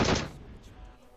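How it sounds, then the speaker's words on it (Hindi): Gunfire in the PUBG Mobile video game, a single sharp loud shot at the start that decays quickly into a fading tail. "मैं यहां से प्री फायर दे रहा हूं, अंधा गोली चला रहा हूं"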